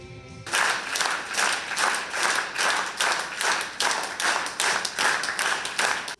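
Mourners at a farewell ceremony in Dnipro for a well-known actor and soldier give a last round of applause, rhythmic unified clapping pulsing in steady beats, loud and close.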